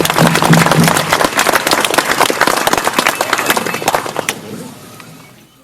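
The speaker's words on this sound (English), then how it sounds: "let's bring them to the podium with a big round of applause" An audience breaks into loud, dense applause for Premier Scott Moe at a podium event, steady clapping that thins out and fades over several seconds.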